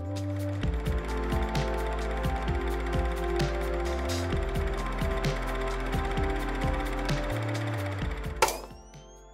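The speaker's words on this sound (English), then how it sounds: "you can hear the projector sound going on" A steady mechanical clatter of gears and ratcheting from a film projector runs for several seconds, ending with a sharp clack and fading whir.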